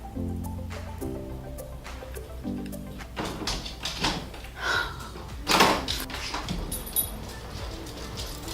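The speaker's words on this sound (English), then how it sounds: "I'll close my door and I'll ask her to stay outside because I'm filming and she just opens it." A pet opening a closed bedroom door, heard as knob and latch clicks, a creak and scuffling up close, following steady harmonic background tones.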